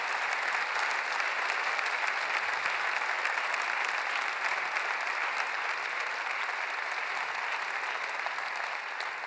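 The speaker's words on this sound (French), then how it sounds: "c'est déjà d'applaudir les entrepreneurs" Dense, steady applause from a large audience at a national ceremony fills the whole stretch at an even, loud level, with no voices standing out.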